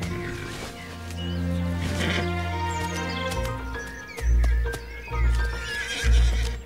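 A Franches-Montagnes horse in the Jura Mountains of Switzerland gives a long loud whinny, then several heavy hoof thuds follow in a slow, uneven rhythm close by.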